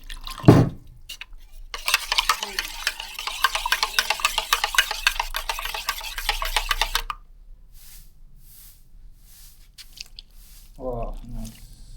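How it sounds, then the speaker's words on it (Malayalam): Water poured into a bread and egg mixture seasoned with salt and sugar, in a village kitchen: a steady, fairly loud splashing pour of about five seconds, then quieter with faint handling noises. "കുറച്ച് വെള്ളം ഒഴിച്ച്"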